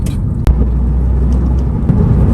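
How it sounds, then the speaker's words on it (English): Road noise inside a Toyota GR Yaris on Michelin Pilot Sport tyres, a steady low rumble and roar with one sharp thump partway through, constant and close. "you do get a decent amount of road noise, I would say, as you'd expect from a sports car like this"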